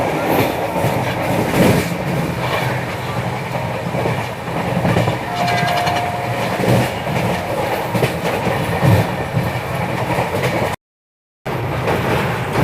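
The Secunderabad–Nizamuddin Duronto Express speeds along toward the Wardha River, a loud, continuous rush of rolling carriages with rhythmic clickety-clack, briefly cut to silence near the end before resuming.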